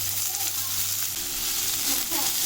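Finely chopped onion fries in oil in a pan for paneer bhurji, giving a steady, close sizzle with a low hum fading near the start and faint stirring scrapes later.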